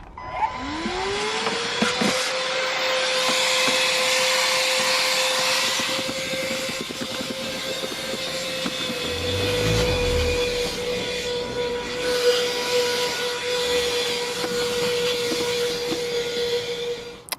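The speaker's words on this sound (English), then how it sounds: "then also use the vacuum as well and try and get out what I can" A vacuum cleaner whines steadily for a long stretch, its pitch rising at the start, with occasional rattling and sucking sounds as it cleans a BMW engine bay.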